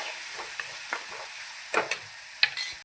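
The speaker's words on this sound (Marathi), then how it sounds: "मिरची छान अशी परतून घेणार आहे" Green chillies stir-fry in hot oil with a steady loud sizzle, broken by a few sharp spatula scrapes and clicks against the pan.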